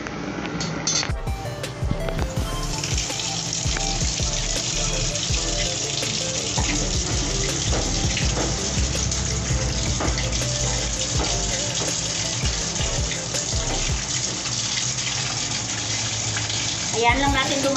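Tap water runs steadily over santol fruit to cool it in a kitchen sink, a loud continuous splashing gush that lasts throughout.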